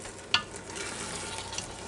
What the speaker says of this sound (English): Okay, now it's come to a simmer.